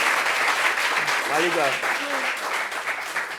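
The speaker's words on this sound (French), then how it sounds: "Applaudissements pour Joël." An audience at a family gathering claps steadily and warmly throughout, a continuous close wash of applause while a voice speaks briefly over it.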